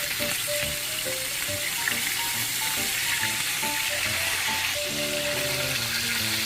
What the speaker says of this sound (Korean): 노릇노릇 튀겨졌다 싶으면 싹 뒤집어주기